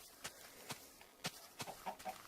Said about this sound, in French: Oh, une poule, elle m'a laissé un œuf.